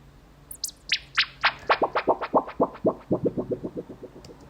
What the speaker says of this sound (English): A really resonance filter tweak to give those kind of bubbly sounds.